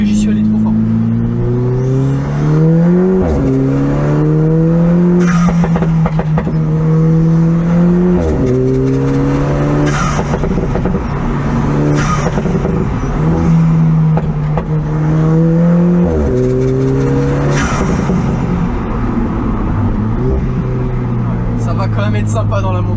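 A 320 hp Alfa Romeo 4C with a straight-pipe exhaust is driven hard on mountain roads. The engine note is loud, close and continuous, climbing through the revs and dropping on gear changes, with sharp pops and crackles on lift-off.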